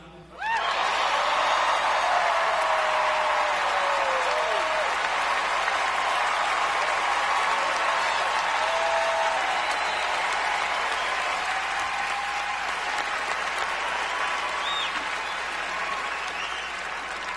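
Sustained applause from a large audience, steady and full for the whole stretch, easing only slightly toward the end.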